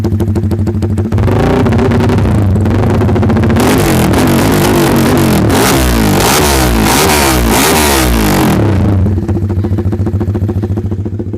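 Honda Sonic road race motorcycle in MP5 race spec, engine loud and close, revved hard in repeated rising and falling bursts for about eleven seconds, with no talking over it.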